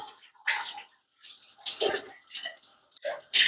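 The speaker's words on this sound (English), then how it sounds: "Get them rinsed in some" Canning jars rinsed with water in a kitchen: splashy bursts of running and sloshing water come in short separate pulses with brief pauses, close and fairly loud.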